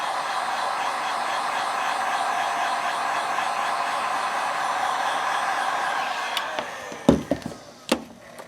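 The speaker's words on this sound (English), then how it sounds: "Now I'm going to heat the Android image a little bit here and start doing the same thing." A heat tool blows hot air onto an Android-image decal wrap on a smartphone, a steady airy whoosh for about six seconds, then it stops and a few sharp clicks and taps follow close by.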